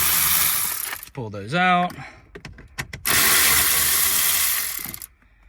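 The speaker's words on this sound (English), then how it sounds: "All right, so I've just got this electric ratchet, 10 millimeter." A 10 mm electric ratchet buzzes in two loud bursts while screws come out of the dash of a 2014-2019 Toyota 4Runner during an instrument cluster swap, a brief whirring rise between them, with a short spoken line in the gap.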